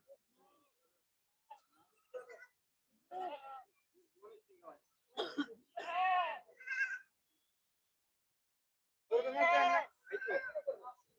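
Several goats bleat at a livestock market in Talegaon Dhamdhere, in short, separate calls, some faint and some loud and close, with quiet gaps between them.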